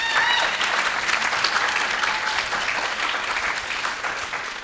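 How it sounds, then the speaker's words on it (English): Audience members at a Ruston Democratic roadshow applaud the planning committee, with loud, continuous clapping that holds steady and eases slightly toward the end. "So let's give them a round of applause"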